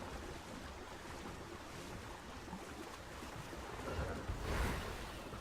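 Continuous washing water and surf-like rush in the survival video game Ark: Survival Evolved, steady and close with a louder swell near the end, no voices.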